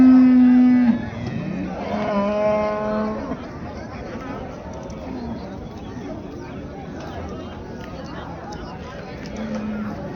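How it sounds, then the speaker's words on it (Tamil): Cattle at a busy cattle market: a loud, close moo opens, followed by a second drawn-out moo, then softer crowd chatter and background livestock noise. "சவலை கலர் மாடு இருக்குது"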